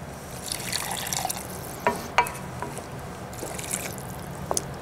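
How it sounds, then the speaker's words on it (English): Warm water pours steadily into a meatball sauce seasoned with Sajji Masala, a continuous wet splashing with a few sharper clinks of a pan or utensil, near and moderately loud with no talking. "And then throw in some warm water."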